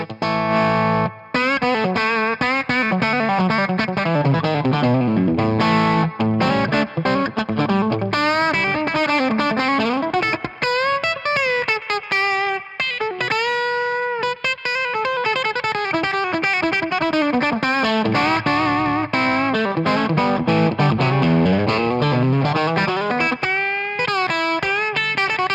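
An electric guitar played through a Fat Jimmy Avionic amp into a 212 Avatar cabinet rings out with distorted, sustained bends and melodic runs, loud and continuous with no speech.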